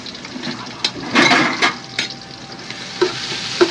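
Garlic and ginger hiss and sizzle in hot oil in a pan. Close, scraping spatula strokes come in bursts, and a sharper sizzle flares as ingredients hit the pan, with no talking.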